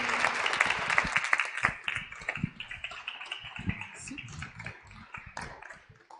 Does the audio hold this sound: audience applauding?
yes